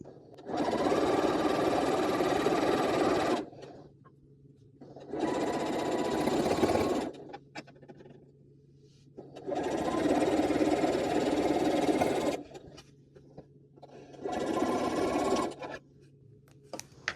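A sewing machine stitches a quilt block seam in four steady whirring bursts of a few seconds each, separated by quiet pauses with faint handling noises.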